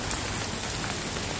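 Rain pouring onto surfaces outdoors, a loud, close, unbroken patter of dense drops lasting the whole moment with no talking.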